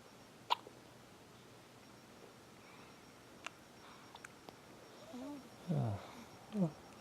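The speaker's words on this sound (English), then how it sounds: "Make me giggle every time you hiccup." A piglet with the hiccups gives a few short, sharp hiccups close by near the end, with a faint click earlier and quiet background otherwise.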